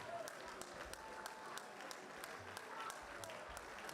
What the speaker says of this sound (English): We can keep clapping for him,